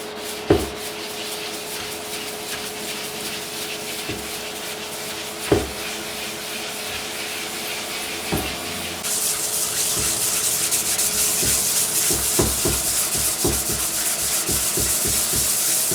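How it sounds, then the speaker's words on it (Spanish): Hand-sanding a motorcycle part for a bobber conversion with 1000-grit sandpaper, a steady dry rubbing hiss with scattered light knocks and scrapes, close and fairly soft, growing brighter and denser in the second half. "Le di como última lija una lija grano número 1000."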